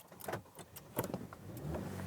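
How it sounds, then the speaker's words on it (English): A Subaru Levorg, a 2017–2022 car, starting up with a subdued engine thrum, low and faint, with some uneven rustling and knocking close by. "usually delivered with a distinctive and rather endearing thrum, normally noticeable from the moment that you fire the car up"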